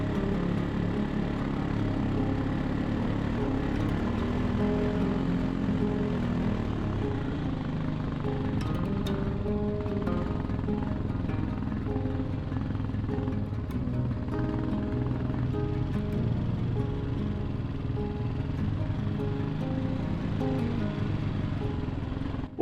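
A four-wheeler ATV climbs a steep mountainside trail, its engine droning steadily with a throaty, buzzing hum that holds nearly constant for over twenty seconds, close and continuous with no talking.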